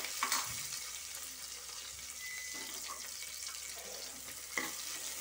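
Chopped onion and green chili sauté in a pan for pudalangai biryani made in a pressure cooker, giving a close, steady sizzle with occasional stirring scrapes and no voices.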